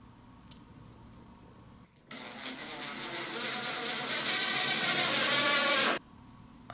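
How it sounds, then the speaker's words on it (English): A drill at its lowest speed drives screws into maple table top boards, giving one long, loud, steady whirring run that starts abruptly and stops sharply, with a quiet lead-in before it. "I'm driving the screws in with the lowest speed, which is 1 in my case."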